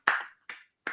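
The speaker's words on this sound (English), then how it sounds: "a little round of applause for the outgoing councilors" Three separate, sharp claps ring out one after another in a quiet council meeting room, each a crisp single hit spaced evenly apart, with no talk around them.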